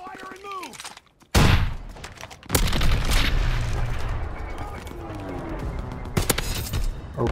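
Heavy gunfire and explosive booms from the World War II shooter Call of Duty WW2, a loud sustained barrage with sharp blasts near the start and end, under scattered game voices.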